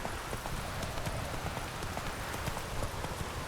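Roach, the horse in The Witcher 3, gallops along with a rapid steady clip-clop of hooves, close and continuous throughout, with no voices.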